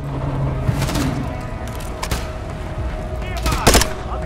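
Gunfire in a Call of Duty MW3 campaign mission on Veteran difficulty, with several sharp bursts of shots and booms over a constant rumble of game noise, with a voice speaking faintly under it.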